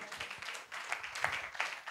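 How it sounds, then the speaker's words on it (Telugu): Congregation clapping hands during a Telugu Sunday worship service, a scattered, uneven patter of claps from many people at moderate distance, fairly faint, with faint voices mixed in. "క్లాప్ కొట్టండి"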